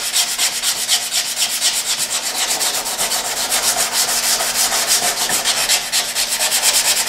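Hand sanding on car body repair filler scrapes steadily in a close, rhythmic back-and-forth, with strokes repeating about twice a second and no pauses.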